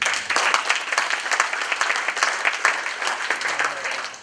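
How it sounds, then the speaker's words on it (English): An audience applauds speakers at a monthly construction association meeting, a dense, steady round of clapping from a roomful of people that lasts several seconds, with faint voices underneath. "Big round of applause for our speakers."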